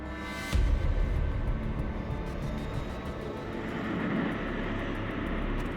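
Lockheed C-130 Hercules cargo plane, a four-engine propeller aircraft in service since the mid-1950s, producing a loud, steady engine drone that swells sharply near the start and holds a continuous roar throughout.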